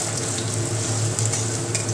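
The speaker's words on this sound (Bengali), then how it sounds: "আপনারা দেখতে পাচ্ছেন পেঁয়াজটা সুন্দর ভাজা ভাজা হয়ে আসতেছে" Onion frying in hot oil in a home kitchen, a steady close sizzle and crackle with faint stirring scrapes, continuous and alone without voices.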